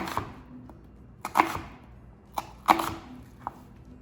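A knife chops onion on a cutting board, giving a few sharp, separate thuds spaced unevenly about a second apart, close and fairly loud against a quiet background.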